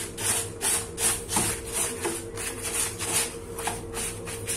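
A brush scrubs back and forth over a stained raincoat in steady, rhythmic strokes, each pass a clear rasping swish repeating about twice a second.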